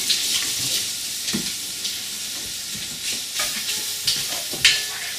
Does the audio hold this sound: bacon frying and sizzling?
yes